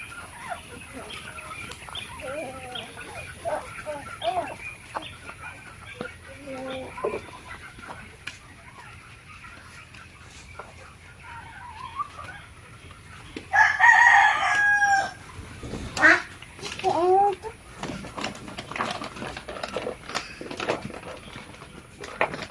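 Backyard chickens cluck in the background while a rooster crows loudly and near at mid-clip, followed by a few more sharp calls over a steady farmyard ambience with a faint steady hum.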